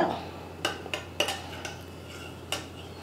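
A spoon clinks against a pot or bowl while nungu payasam is stirred with chopped cashews and almonds, giving a few faint, scattered metallic taps.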